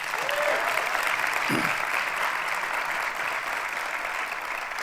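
Sustained applause from a large audience fills the space, a dense steady clapping that continues throughout at an even level.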